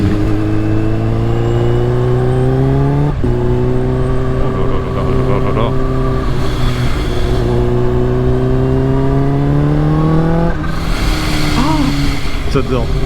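A Kawasaki H2 motorcycle engine revs up and down repeatedly, loud and close, with rising and falling pitch sweeps and a sharp burst near the end; someone speaks over it.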